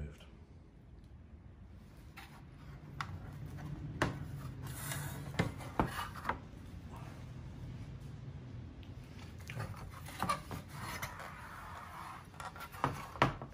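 Handling noises as the case comes off a Panasonic RF-4900 radio: faint rubbing, scraping and scattered small knocks and clicks of parts being moved, quiet and close.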